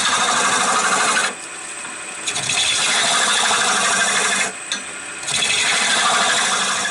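Hand sanding of a wooden baseball bat being shaped in a workshop, steady scratchy abrasive rubbing in long close strokes, broken by two short pauses.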